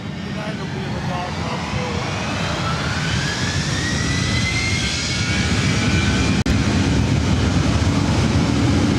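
A jet airliner at LAX, a 757-300, roars steadily and loudly as its engines build during takeoff, with a broad, rising whine running through the sustained rumble.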